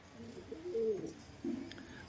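Pigeons kept on a rooftop coo softly nearby, two short throaty calls, one in the middle and one near the end, over quiet background hiss.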